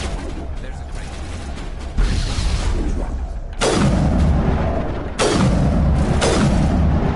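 A gas grenade goes off in the Mass Effect video game with a heavy boom, followed by further loud explosive bursts and rumbling blasts that keep the scene roaring and dense.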